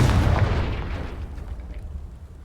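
A Confringo blasting spell in Hogwarts Legacy goes off as one loud, close explosion with a deep boom that rolls off and fades into a rumbling tail.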